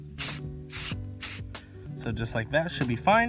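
Three short, loud bursts from a Plasti Dip aerosol can coat a Dodge Dart bezel up close, followed by someone talking.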